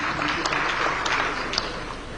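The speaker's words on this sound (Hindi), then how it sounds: "बहुत बहुत बधाई और तालियां होनी चाहिए यहां।" Audience applause at a Jaipur industrialists' meeting with Chief Minister Bhajan Lal Sharma, steady dense clapping filling the whole stretch at moderate level with a faint murmur of voices underneath.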